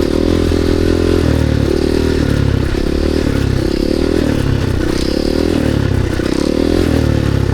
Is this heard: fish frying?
no